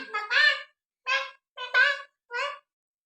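Four short, harsh squawking calls from a chicken, close by, separated by brief silences.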